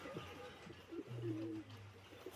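A Royal Teddy pigeon, held in the hand indoors, gives soft low cooing calls, a short burst then a longer purring coo, faint and close.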